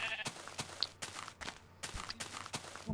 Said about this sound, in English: Oh yeah! There are a lot of sheep.